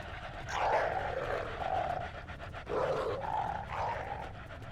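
Wild jackals give a snarling, panting growl in a few rough bursts, close and moderately loud, with a brief pause between the groups.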